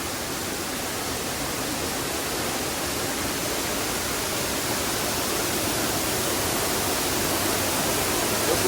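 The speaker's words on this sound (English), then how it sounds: "This is one of the most coolest waterfalls I've been to." A loud, steady roar of a flooded Arkansas waterfall, heard from beneath it, fills the air, dense and unbroken, growing slightly stronger toward the end.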